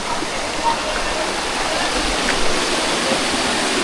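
Steady, loud rush of a waterfall pouring continuously, a dense broadband roar filling the scene without pause; a voice is faintly present beneath the water noise.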